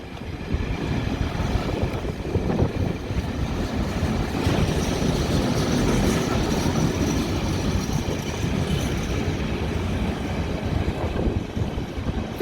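Train passing through Kensington Olympia station in London, a steady, heavy rumble and rolling roar that holds for several seconds with faint wheel clatter and no voices.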